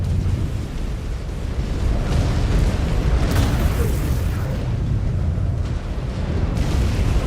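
A destroyed enemy mech explodes in the Mechwarrior 5: Clans video game, a long heavy rumbling blast with crackling debris that keeps roaring loudly throughout.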